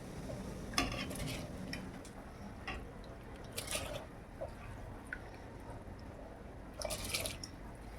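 Water with cinnamon, green cardamom and a little white oil boils in a pot for mutton biryani rice, giving a faint, steady bubbling with occasional louder pops and splashes.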